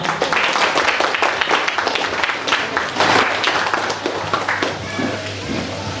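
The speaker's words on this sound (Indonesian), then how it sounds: "Tepuk tangan untuk kita semua." Audience applause fills a political gathering in West Nusa Tenggara, a dense, steady roar of many hands clapping close and loud throughout, fading slightly toward the end.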